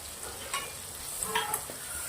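Soft sizzling of turmeric, Kashmiri chilli and fresh milk cream in a hot pan with a few scraping stirs, close and fairly quiet, no voices.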